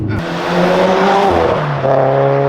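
A 400 HP turbocharged Subaru BRZ accelerates hard nearby, its engine pitch climbing through gears with brief shifts, loud and continuous.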